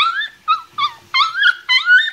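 Airedale Terrier puppies whimper and yip in a string of short, high, whiny cries with brief pauses between them, close by and with no talking.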